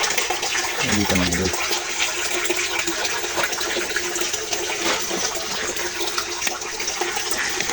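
Laundry being washed by hand in water, with continuous splashing and sloshing running throughout, and someone talking over it at moments.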